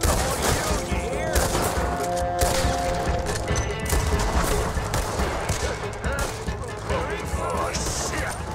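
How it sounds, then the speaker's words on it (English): Rapid Gatling gun fire rattles continuously through a Red Dead Redemption 2 shootout, loud and close, with impacts and crashes mixed in and shouting voices over the barrage. "Gatling gun!"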